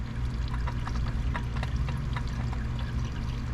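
Engine oil draining from a Nissan Altima 2.5 during an oil change, a steady close pouring trickle of liquid that runs without break.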